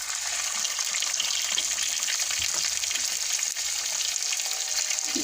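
Fish frying in hot oil in a home kitchen, with a continuous loud sizzle and crackle that stays steady throughout, close by and without speech.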